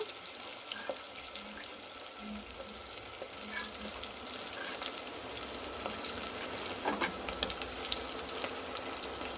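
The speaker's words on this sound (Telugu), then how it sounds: "అన్నీ వేసుకొని ఇలా కొద్దిసేపు ఫ్రై చేసుకోవాలి" Chopped onion, green chilli and carrot frying in oil for rava upma, a steady, even sizzle with occasional light stirring taps, no voices.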